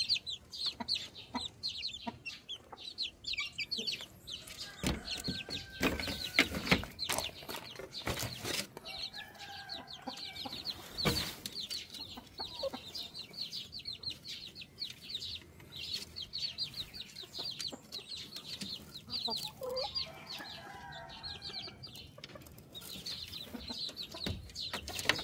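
Young pullets of a shamo breed cluck and call in a farm pen, giving a steady stream of soft fowl chatter with an occasional fuller call and no voices.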